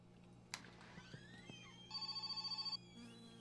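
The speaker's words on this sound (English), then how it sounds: "Actually, oh, we got a phone call." A telephone in My Summer Car rings with a short electronic trill, a single rapid warbling burst about a second long, after a few thuds and a sliding tone, with game ambience underneath.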